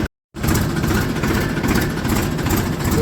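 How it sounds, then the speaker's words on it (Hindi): A tractor engine reversing in low gear gives a steady, loud, close diesel rumble with an even throbbing rhythm after a brief silent gap at the start, and no talk. "आवाज़ गोल हो गई है ट्रैक्टर की"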